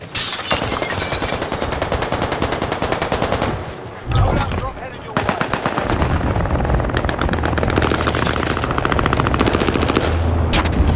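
Rapid bursts of automatic gunfire in a multiplayer video game played on a new map, nearly continuous and loud, with a brief lull around the midpoint before heavy firing resumes.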